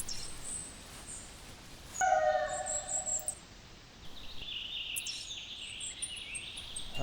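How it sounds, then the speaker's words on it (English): A coyote howls in a hunting video game set on Whiteheart Island: a short wavering howl, then a longer, higher sustained call over quiet outdoor ambience. "We've got a howl."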